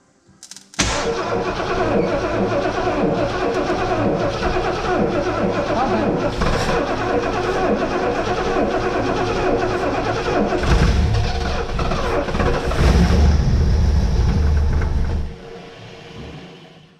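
A barn-find 1971 Lincoln Mark III V8 cranks and catches, then runs loudly and roughly up close, with a rising rev surge near the end before dropping back; a voice is faintly present underneath.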